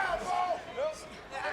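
A sold-out wrestling crowd in an arena in Dallas, Texas, a roaring wash of cheering and shouting voices that swells and dips, fairly close, with a voice talking over it.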